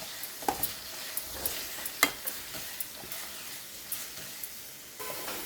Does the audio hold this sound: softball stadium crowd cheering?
no